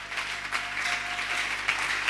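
Church congregation clapping in a steady, even wash of applause, moderately loud and continuous over a faint low hum, with no voices standing out.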